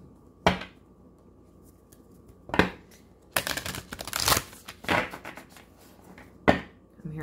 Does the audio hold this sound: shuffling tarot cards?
yes